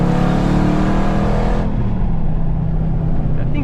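A Dodge Charger Scat Pack with a louder exhaust produces a close, heavy engine drone and rev that drops off partway through, continuous and loud with no talking.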